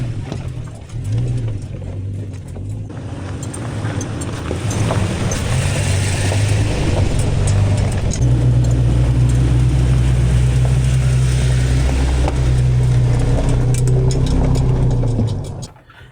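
A vehicle crawls slowly along a rugged, rough mountain road with a low engine drone, creaking suspension and rattling parts, and steady rumbling for about fifteen seconds.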